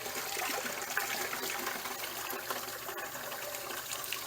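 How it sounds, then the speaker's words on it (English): Water rushes steadily out of an RV water heater into a bucket, a constant close gushing hiss. "I'm going to turn it off for a second, let some water run out"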